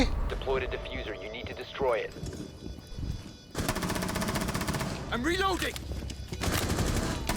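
Rapid automatic gunfire bursts crackle in a round of the video game Rainbow Six Siege, with dense firing in the second half, while players talk excitedly over it.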